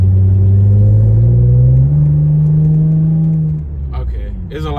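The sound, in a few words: Lexus GS300 2JZ with cold air intake accelerating hard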